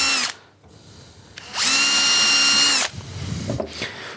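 A power drill bores a pilot hole in wood for a boot rack, with a brief burst, a pause, then a loud steady whine of just over a second before winding down into handling noises.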